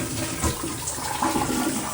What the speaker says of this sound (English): I'm over here to flush the toilet